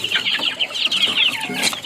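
Clucking from a Tasmanian black gamefowl crossed with a Sweater in a backyard setting, a steady run of close, busy hen-like clucks and chatter with no pauses.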